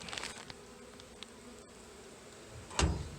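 Honeybees buzz inside an opened hive during a spring inspection, a faint steady hum near the frames, broken by a short rustling thump near the end.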